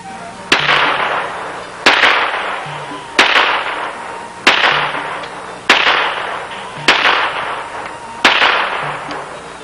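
A .22 pistol fires seven evenly spaced, sharp, loud gunshots about every 1.3 seconds, each a crisp crack followed by a short decaying echo, with no speech.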